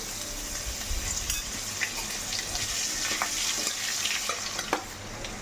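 Garlic frying in a hot pan for meat khichuri, a steady close hiss with scattered light clicks and a few stirring scrapes, no voices.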